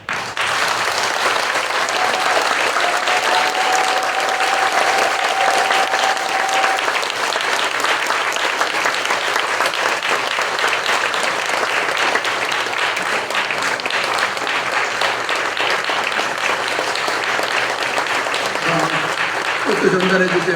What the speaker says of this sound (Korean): 제가 전달할 때 제 말씀에 동의하시는 큰 박수를 보내주시기 바랍니다.